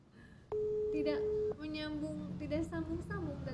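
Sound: telephone busy signal, call not connecting

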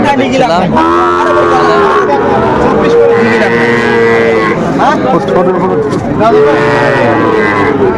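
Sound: bull calf

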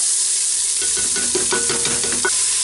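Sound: onion and garlic frying in hot oil in a pan

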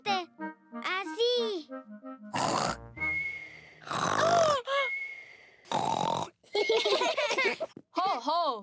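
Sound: cartoon pig imitating loud snoring

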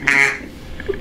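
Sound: duck call blown to imitate a duck's quack

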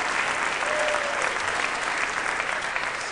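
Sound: comedy audience applause

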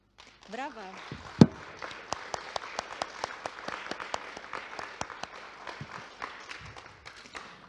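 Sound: audience applause

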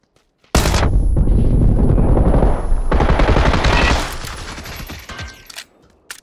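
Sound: Tommy gun firing in PUBG video game

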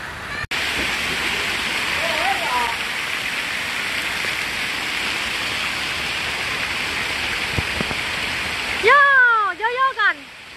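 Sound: water splashing in a hotel pool

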